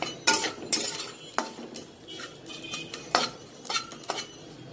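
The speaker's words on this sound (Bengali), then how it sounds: "দেখুন শুকনো মরিচ আর পাঁচফোড়নগুলো আমি টেলে নিয়েছি।" Dry red chillies and panch phoron roast in a pan as a metal utensil stirs them, making close, irregular clinks and scrapes over a faint sizzle.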